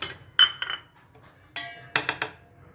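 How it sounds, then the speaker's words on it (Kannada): A lid is set down on a pot of vegetable upma, giving several sharp metallic clinks and rattles in two close bursts, near and fairly clear in a quiet kitchen. "ಇದ್ರ ಮೇಲೆ ಒಂದು ಮುಚ್ಚಳ ಮುಚ್ಕೋತೀನಿ"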